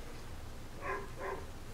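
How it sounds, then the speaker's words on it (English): Two short, distant dog barks from outside, faint against a steady low background hum. "And my dogs start barking."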